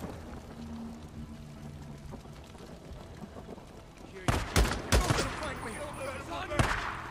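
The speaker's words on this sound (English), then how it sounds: "I got shot from somewhere." Several loud, sharp gunshots ring out in Days Gone, close and spaced irregularly after a quieter stretch of ambient game sound and muffled voice.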